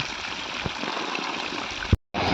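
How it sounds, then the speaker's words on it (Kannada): Water flows steadily in a village stream, a continuous rushing wash heard close and evenly loud. A sudden thump comes just before the sound briefly cuts out and then resumes. "ನೀರು ಹೋಗ್ತಾ ಇರೋದು, ವಾಶೌಟ್ ಆಗ್ತಾ ಇರೋದು"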